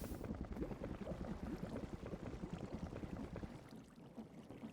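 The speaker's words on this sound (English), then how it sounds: "now you can hear it's blubbing because the mixer is going through fluid as well" A Create mod mixer in Minecraft churns through fluid, giving a steady, dense bubbling and sloshing with a loose rapid rhythm that eases slightly toward the end.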